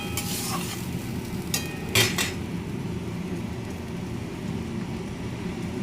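Ground ginger, garlic and onion paste with tomato being stirred in a hot pan: a continuous loud sizzle with a few metal utensil scrapes and clanks near the start, close up and without talk.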